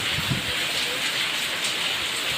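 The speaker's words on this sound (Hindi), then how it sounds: "यहाँ पे हो रही है सुबह सुबह बारिश।" Steady morning rain falling in a downpour, a dense, even hiss of drops on surfaces that continues unbroken at moderate volume.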